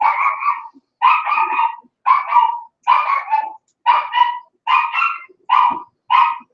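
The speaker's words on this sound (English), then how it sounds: "You can hear the dogs barking." Dogs barking at a ranch house as a visitor arrives: eight evenly spaced bursts of sharp, nearby barks, each a quick double or triple yap, separated by brief silences, with no talking.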